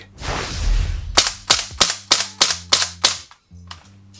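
Tokyo Marui Lightning Hawk .50AE Magnaport custom Desert Eagle airsoft gas pistol emptying its magazine: a burst of gas hiss, then seven sharp evenly spaced shots, a pause and one more crack, loud and close.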